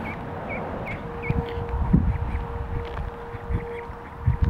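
Several ducks give short honking calls, spaced through the first half and fading into general outdoor rumble and background noise, with no talking over them.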